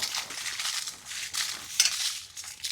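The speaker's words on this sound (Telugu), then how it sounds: "తగినంత నూనె దేశీ ఎండుమిరకాయలు వేగించుకుందాం" Dried red chillies frying in hot oil for a tomato chutney: a steady, crackly sizzle with soft stirring scrapes, close and moderately loud throughout, with no voices.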